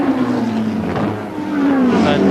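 Racing cars, including a Lola Mazda, roar past at Brands Hatch during a 1984 Thundersports Trophy race, loud engine notes sweeping by one after another with shifting pitch.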